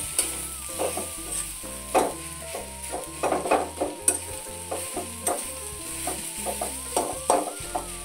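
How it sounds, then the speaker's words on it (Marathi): Coarsely ground boiled corn kernels being sautéed in a pan, with steady scraping stirs and spatula knocks over a low sizzle, close and continuous without talk. "आता ह्याला परतून घेऊ।"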